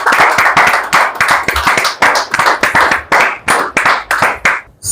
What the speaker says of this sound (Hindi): जोरदार तालियों के साथ आमंत्रित करें आदरणीय दिनेश दीवाना